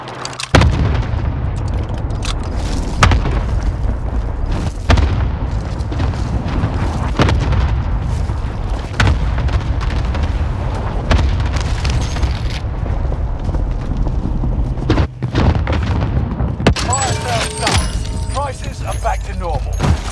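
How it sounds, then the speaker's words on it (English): A cluster airstrike in Call of Duty Vanguard Warzone rains down a long run of heavy booms and rumbling blasts, loud and dense, with battle noise and game voice callouts mixed in. "Here comes the airstrike."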